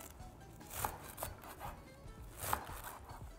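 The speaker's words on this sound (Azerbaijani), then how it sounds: "İspanağı elə bir doğrayırsan" Knife blade striking spinach on a board in a kitchen while a fish dish is prepared, a few sparse, soft chops with gaps between them under quiet room background.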